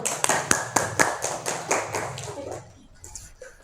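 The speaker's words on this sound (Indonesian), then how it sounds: "Tepuk tangan." Classroom clapping after group presentations, a series of sharp, close claps in a loose rhythm that gradually fade and stop near the end.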